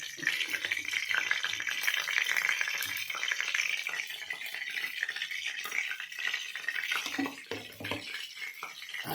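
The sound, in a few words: paneer frying lightly in oil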